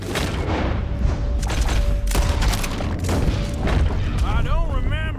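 Gunfire in a Red Dead Redemption 2 shootout: a loud, dense volley of booming shots and cracks in quick succession, with a voice breaking in near the end.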